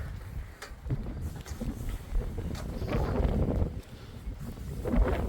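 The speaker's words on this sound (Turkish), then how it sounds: "Hafif bir rüzgar var" Gusty wind buffets the microphone in uneven, rumbling swells, with faint rustling and no voices.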